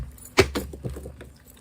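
A beaded keychain is handled up close: one sharp jangle of beads and metal, then several softer clinks and taps that fade out, with no voices.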